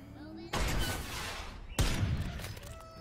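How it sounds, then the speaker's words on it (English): Two heavy gunshot blasts from the Worms Revolution video game, spaced a little over a second apart, each a sharp loud burst that decays into a rumbling tail. "Warning shot."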